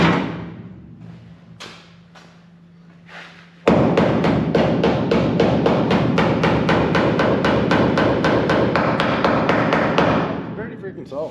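A few sparse hammer taps, then a rapid, steady run of loud metallic hammer blows striking repeatedly for several seconds before stopping.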